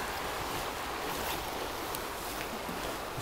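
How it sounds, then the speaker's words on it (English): Wind gusts steadily past the microphone beside a river during fly fishing, a dense, unbroken roar that stays loud throughout the short stretch with no voices. "That wind's picking up as usual."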